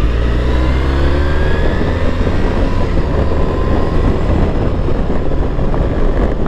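A low-mileage Triumph Bonneville T100 motorcycle engine accelerates steadily beneath heavy, continuous wind buffeting, the engine's low drone mostly buried in a loud roar of rushing air throughout.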